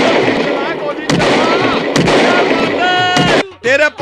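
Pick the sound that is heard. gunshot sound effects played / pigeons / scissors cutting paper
gunshot sound effects played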